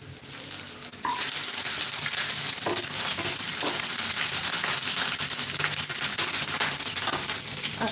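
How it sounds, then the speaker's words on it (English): Onions and garlic frying in a pot for Nigerian jollof rice, a loud continuous sizzle with scraping stirs and a few clinks of a utensil against the pan, no voices. "As you can see now, most of the onions together with garlic, they are now turning brown."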